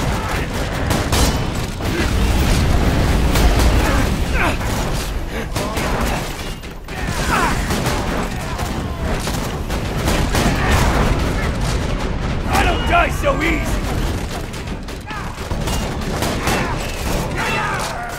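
Sentry turret firing in Borderlands 2, a dense, loud barrage of rapid gunfire and booms that runs continuously, layered with other weapon blasts and effects.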